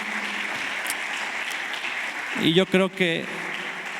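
Congregation at a church service applauds steadily in a dense, even patter, and a voice starts speaking over the clapping partway through.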